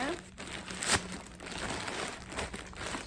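A plastic-bagged SHEIN parcel is opened close up, giving intermittent crinkling and rustling of thin plastic with a few sharper crackles, fairly quiet throughout.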